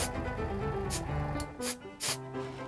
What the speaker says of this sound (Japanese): はい、でもこれをねスプレーしていきます。